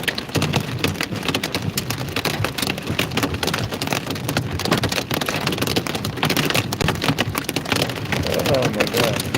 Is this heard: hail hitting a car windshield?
yes